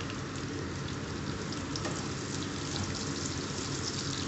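Finely chopped onion fries in a pan for chilli chicken, giving a steady, even sizzle like light rain that holds at a moderate level throughout with no voices.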